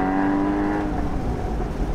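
Porsche Boxster Spyder 981 flat-six engine while braking, a loud, steady droning howl that slowly falls in pitch as the car slows, heard up close with no talk.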